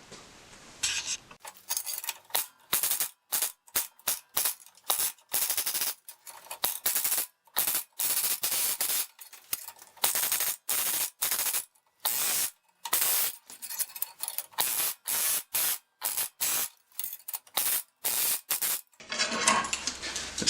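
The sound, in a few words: flowforming hammer bit stretching sheet metal edges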